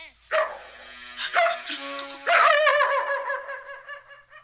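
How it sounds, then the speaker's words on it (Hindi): An Alsatian dog barks loudly at strangers, three separate barks in a row, the last one longer and trailing off, heard close up. "वो किसी अजनबी को देखकर ही इस तरह भौंकता है।"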